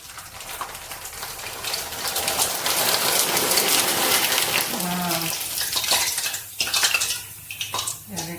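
Rice flour papad deep frying in hot oil, a loud steady sizzling crackle with clinks of a utensil against the pan, close by and without talk.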